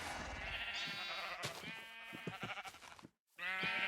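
Minecraft sheep bleating in the video game, a run of repeated wavering bleats following one another closely, loud and up front, with a brief silent gap before a final bleat.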